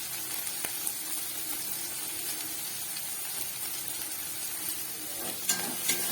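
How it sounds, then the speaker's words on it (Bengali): Spice paste of tomato, salt, turmeric and chili powder frying for a Bengali mixed-vegetable palang shak ghanta, giving a continuous, close sizzle with occasional scraping stirs and small pops, no voices. "দিয়ে মশলাটাকে ভালো করে কষিয়ে নেব"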